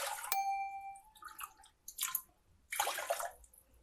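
Water pours in splashing bursts into a pressure cooker holding rice, three separate gushes after a sharp metallic clink and ringing tone at the start, close and with no voices.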